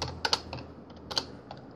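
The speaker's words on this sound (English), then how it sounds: "Just typing a little fast here." Fast typing on a computer keyboard: a handful of quick, crisp key clicks in short uneven bursts, close and clear, with no talking over them.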